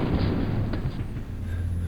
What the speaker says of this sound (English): But now, the explosion's getting closer.